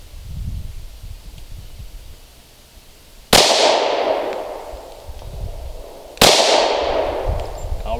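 Two sharp, loud gunshots from a Smith & Wesson .40 caliber pistol loaded with hollow point rounds, fired about three seconds apart outdoors, each with a bright crack and a decaying echo.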